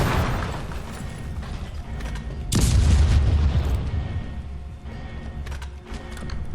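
A mine detonates in the shooter game Homefront: The Revolution, a single deep, loud boom about midway through that rumbles for a few seconds over steady background game noise.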